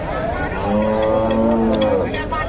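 A large Friesian cow moos in a long, drawn-out low call at a busy cattle market, fairly close and loud over steady crowd noise and murmured voices.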